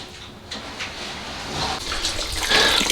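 Coolant drains from the cooling system of a BMW X5 E70, a steady close splashing trickle of liquid that grows slightly louder toward the end.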